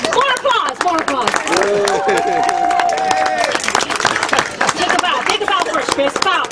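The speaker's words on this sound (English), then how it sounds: "More applause, more applause." Dense applause from an outdoor holiday show audience at Epcot's Norway pavilion, sustained and fairly loud throughout, with a tonal voice or music line and talk running over the clapping.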